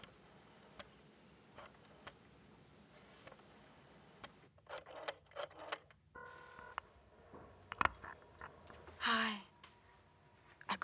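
A telephone is dialed by touch-tone, a short run of beeping tones in quick succession rising out of quiet room noise, with faint rustles and a breath around them and no speech.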